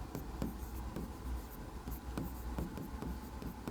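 Pen writing an equation on paper in a Class 10 linear equations lesson, with close, continuous scratchy strokes and short taps, heard on its own without talk.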